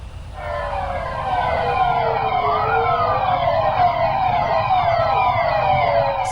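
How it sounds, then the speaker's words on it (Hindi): Police car sirens wail loudly from a convoy of hundreds of police vehicles circling the Bangla Sahib gurdwara in Delhi, overlapping rising and falling tones sustained close by, with no talk. "पुलिस ने सैकड़ों गाड़ियों का सायरन बजाते हुए गुरुद्वारों के चारों ओर चक्कर लगाकर सेवादारी को अपनी सलामी दी"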